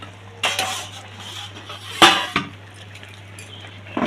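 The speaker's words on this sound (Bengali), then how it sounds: "তো দেখো তোমরা, ঢাকনাটা নামাচ্ছি" A metal lid lifted off a cooking pot of boiling kharkol, a few sharp clanks and clinks of metal against metal spaced over a few seconds, close and clear with a low steady hum beneath.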